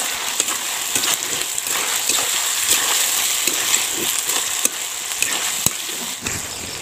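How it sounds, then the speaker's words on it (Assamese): Onions frying in hot oil give off a constant bright crackling sizzle, with occasional sharp clicks as a spoon stirs the pan, close and continuous throughout. "এতিয়া যিহেতু মোৰ তেলটো আছে, পানীটো নাই, তাৰ বাবে তেল থকাৰ বাবে পিঁয়াজখিনি ধুনীয়াকৈ ভজা যাব।"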